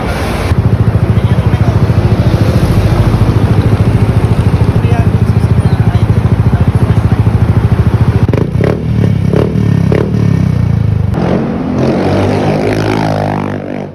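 A Yamaha Xmax 300cc scooter fitted with a power pipe exhaust runs loud and close with a rapid, pulsing engine note, then revs upward sharply near the end.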